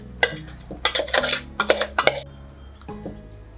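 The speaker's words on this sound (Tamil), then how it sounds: "வேற ஒரு பாத்திரத்துக்கு நம்ம இதை மாற்றிக்கலாம்." Ground sesame is scraped and moved into another cooking vessel, making clattering metal-on-metal clanks and scrapes of a utensil against pots in a quick irregular burst, close and fairly loud.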